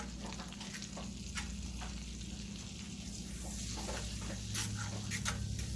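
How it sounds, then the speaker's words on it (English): Flour whisked into a melted butter roux in a Lodge cast iron pan over a charcoal grill, a quiet steady sizzle with faint sporadic whisk scrapes and ticks, no talk. "we're going to add just tablespoons of flour, and we're going to go ahead and stir it around."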